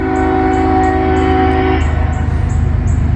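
A CSX freight train rolls past up close and loud, its wheels and cars rumbling steadily with a droning tonal hum, then a rhythmic clatter over the rails.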